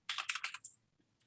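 Several quick clacks from a computer keyboard as a terminal command is typed, a brief burst of about six close keystrokes in an irregular rhythm, then a pause and one faint final tap, with no talking.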